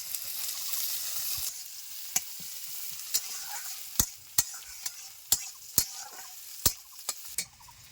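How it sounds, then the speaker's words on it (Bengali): Chopped onion and green chili with cumin and a dried red chili frying in oil, a steady faint sizzle punctuated by about a dozen sharp spatula taps against the pan, no voices. "পেঁয়াজটা ভাজা ভাজা হয়ে আসছে"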